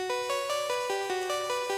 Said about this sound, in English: the last thing is these little 8-bit harmony things